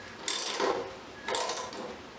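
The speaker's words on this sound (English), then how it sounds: "I'm just trying to tighten the actual nut." Nut being tightened on the rear roller assembly of a Scott Bonnar 45 mower with a Phillips head on the bolts, giving two short bursts of ratcheting, metallic clicks about a second apart, fairly close.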